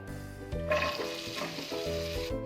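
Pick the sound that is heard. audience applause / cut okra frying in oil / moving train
cut okra frying in oil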